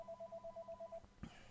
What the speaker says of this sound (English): now a phone call can just throw me completely off track. I'm just gonna let that thing ring